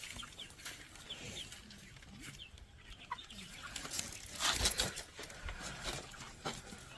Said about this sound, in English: you see how many numbers of chickens are here